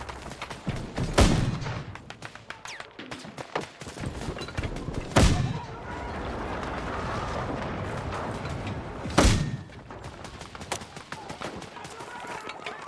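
Gunfire in a video game, three heavy booming shots a few seconds apart over a dense bed of rapid crackling distant fire and battle noise.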